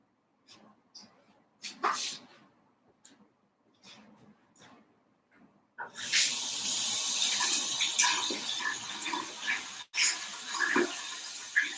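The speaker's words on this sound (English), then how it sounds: "And this water flows along here." Water flowing steadily along a channel in a nighttime attraction in Japan, a sustained broadband rush that starts after several seconds of sparse small sounds and continues loud to the end.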